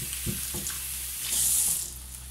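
Chopped tomatoes hit a hot oiled pan while sautéing a mung bean stew, giving a couple of quick splashy hits followed by a brief rising sizzle that settles back down.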